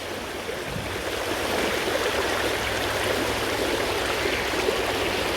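Floodwater rushes fast into a village, a steady, loud roar of churning water that continues unbroken throughout with no voices.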